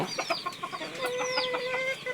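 Young chickens in a pen chirp and cluck in quick, high overlapping calls, moderately near and steady for about two seconds.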